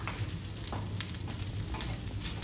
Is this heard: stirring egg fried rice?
yes